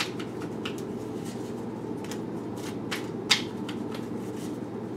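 Soft, quick riffling of tarot cards being shuffled repeats intermittently, with a sharper snap near the middle, heard close against a low steady hum.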